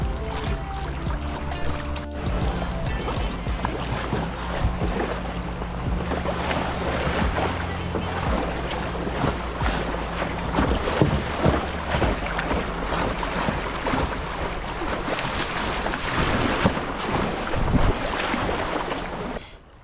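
A kayak paddles down the Grand River, with steady splashing water and gusty wind rumbling across the microphone for the whole stretch, no talk heard.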